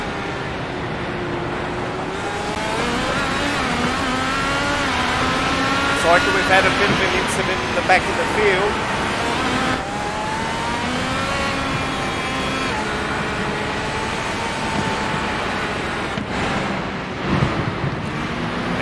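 Indy race cars scream around a circuit in iRacing, with engines rising and falling through gear changes and several cars overlapping, while a commentator talks over the steady engine roar.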